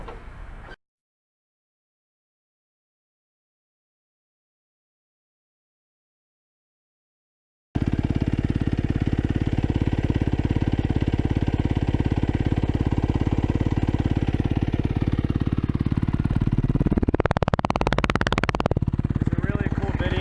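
A 2013 KX250 dirt bike engine runs loud and steady up close, then revs sharply near the end, after a long stretch of silence at the start.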